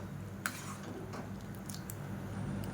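A spoon stirs idly sambar in a cooking pot after water is added. The sound is quiet, with soft wet swishes and a few faint ticks and clinks against the pot over low background noise, and nobody speaks.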